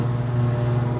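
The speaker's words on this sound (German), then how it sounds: "das ist manchmal ein bisschen laut, die haben ja so riesige Landmaschinen" Large farm machine drives uphill nearby on a rural road, a loud, steady low engine drone with no break through the whole second.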